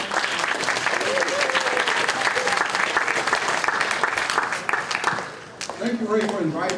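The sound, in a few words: audience applause welcoming speaker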